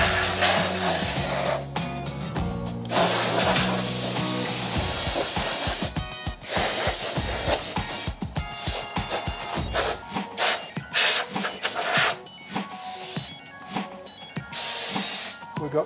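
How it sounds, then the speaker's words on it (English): Compressed air blasting dust off a pearl white resin shaving brush in a workshop, loud hissing bursts of varying length, some long and steady, others short rapid puffs, close to the microphone. "I'll give this a blow down first."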